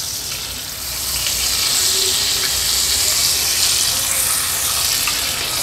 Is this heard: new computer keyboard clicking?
no